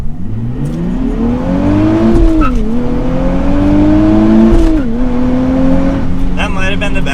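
A 2023 Nissan Z Performance with a manual gearbox launches hard with traction control on, its engine note climbing loud and steady through a gear change, then dipping and rising again under a continuous roar.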